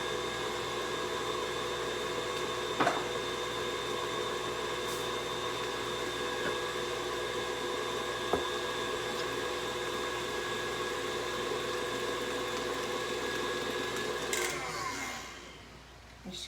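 An electric mixer beats egg yolks, sweetened condensed milk and a block of cream cheese into a smooth batter, whirring steadily at a constant pitch for most of the time, then winding down and stopping near the end.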